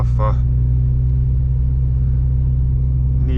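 A 2006 Subaru Impreza WRX STI with a manual gearbox drives along, its engine a steady, loud low rumble that fills the whole stretch, with a brief voice near the start.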